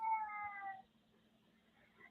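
A domestic cat gives one clear, drawn-out meow up close, then quiet room noise with a low steady hum.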